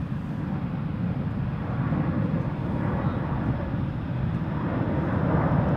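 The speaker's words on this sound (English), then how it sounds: "Let's have a look at the Cathay Pacific A350 1000." Cathay Pacific Airbus A350-1000 jet departing Schiphol Airport, a steady broad engine roar heard from a distance, even in level throughout with slight wind rumble.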